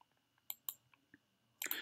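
A pen is picked up and clicked: a few sharp, quiet clicks and light handling taps close by, ending in a brief cluster of clicks.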